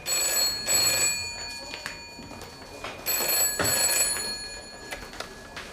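A telephone rings indoors in a series of bright, bell-like bursts separated by short pauses, moderately loud and with no voices.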